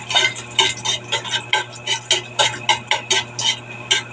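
Food being stirred and tossed in a pan at home, with a steady run of scraping, clinking strokes against the metal in a regular rhythm, close and fairly loud over a low constant hum.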